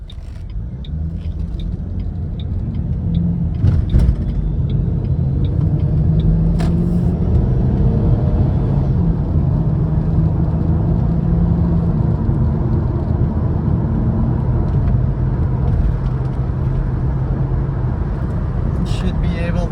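Steady low road rumble and drone of a Ford Mustang with a 5R55S automatic cruising on the highway, continuous and close from inside the car, with a brief louder knock early on.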